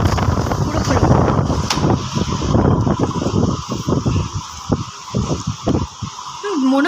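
Strong wind roars and buffets the microphone in a loud, continuous rumble that eases slightly toward the end, with people's voices mixed in.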